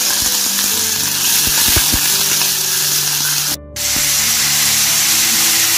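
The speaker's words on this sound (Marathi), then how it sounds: "आता कांदा आणि मिरच्या त्या आईने तेलात टाकलेले आहे" Onion and green chillies frying in hot oil in a kadhai over a gas flame, a steady loud sizzle close by with a few small pops, briefly dipping before resuming.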